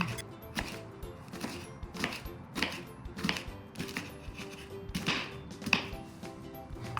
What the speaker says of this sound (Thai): นำพริกชี้ฟ้ามาหั่นเฉียง หั่นไปเรื่อยๆให้หมดเลย